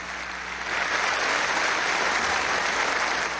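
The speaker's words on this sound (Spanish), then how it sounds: "Recibió una larga ovación de pie" Long standing ovation in a legislative chamber for the French president, a steady dense wash of clapping that swells after the first half second and stays loud and even throughout, with no voices on top.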